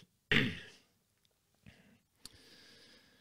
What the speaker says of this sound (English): As I cough there